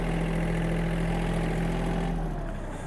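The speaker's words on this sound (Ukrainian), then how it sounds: "І трактор почав свій рух." A Yanmar AF-324 mini tractor engine runs steadily as the machine moves, a close, constant diesel drone with a strong low hum that eases slightly toward the end.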